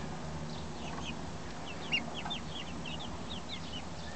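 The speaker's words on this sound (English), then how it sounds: "One good looking chicken, huh?" Chickens in a flock giving soft, scattered clucks and short chirpy calls over a low background hum, fairly faint and distant, with one slightly louder note midway and no talking.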